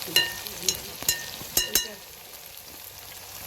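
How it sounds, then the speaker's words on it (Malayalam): Jackfruit pieces are dropped into hot oil, bringing a few sharp crackling pops and spits over a low bubbling sizzle, close and moderately loud, before it settles to a quieter steady frying hiss. "നമ്മളിതിന് കുറച്ച് കുറച്ചാക്കിയിട്ട് എണ്ണയിലേക്ക് ഇട്ട് കൊടുക്കും"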